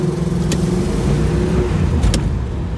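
A 1967 Pontiac GTO V8 engine revs steadily after slipping into neutral, a loud, continuous close-up drone with a sustained low hum and two brief sharp bursts on top, no talk.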